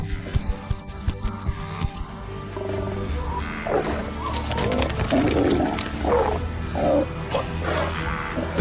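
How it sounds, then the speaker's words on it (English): A lion roars on the African savanna, loud and close, with a series of deep grunting pulses building into sustained, rumbling roars over several seconds, among other wild animal sounds. "It is the roar of the lion, a declaration of territory that travels for miles"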